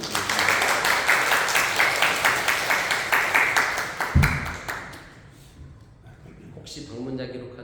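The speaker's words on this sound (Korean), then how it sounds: "좀 따뜻하게 박수로 환영해 주시기 바랍니다." A church congregation claps warmly to welcome first-time visitors during a Sunday service, a dense burst of applause for about four seconds that fades out, followed by a thud and faint room sounds.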